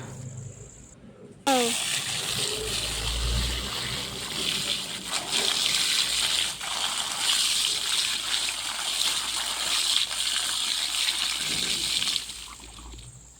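People wash up with running water at a farm plantation after finishing their work: a sudden gushing splash starts and keeps pouring and splattering steadily nearby for about ten seconds before easing off.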